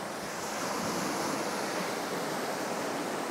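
Ocean waves roll onto a soft sand beach at sunset, a constant broad wash of surf mixed with some wind rumble, with nobody talking.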